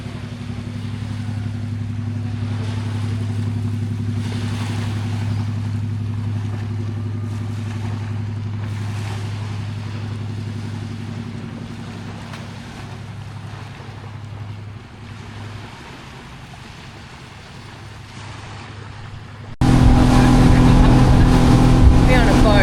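A boat engine drones steadily on the sea near Koh Khai Nai off Phuket, a constant low rumble with water noise that eases briefly, then surges louder near the end.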